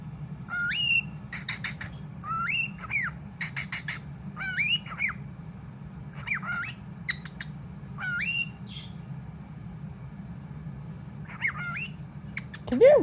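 Six-month-old talking cockatiel giving short bursts of squawks and whistled chirps, bright and close, repeating in clusters over a low steady hum with brief gaps between calls.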